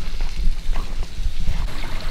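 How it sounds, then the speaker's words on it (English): A small trickling waterfall in Ferne Clyffe State Park gives a close, continuous splashing patter of flowing water, steady and fairly loud with no speech. "got a little bit of water flow here, feeding that little trickling fall down that way."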